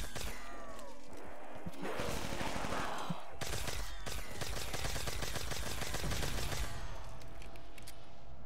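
A cheese gun fires in a custom Black Ops 3 Zombies tower map as loud, rapid bursts of crackling shots with crashing impacts. The barrage is dense and continuous, with a short pause partway through.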